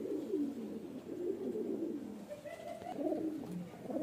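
Andhra breed pigeons, a black cock and hen, coo in close, continuous low burbling phrases that rise and fall in long rolling waves, with no talk.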